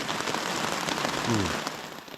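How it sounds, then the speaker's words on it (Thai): Steady heavy rain falls at night beside a forest stream, a dense constant hiss of drops close around, loud and unbroken throughout. "ทุกคนครับฝนตกแบบนี้นะ"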